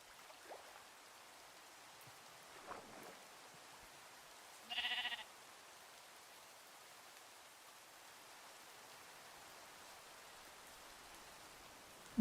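A single short sheep bleat in a Minecraft TerraFirmaGreg modpack world, faint and brief amid a quiet hiss of ambient noise, with no talking.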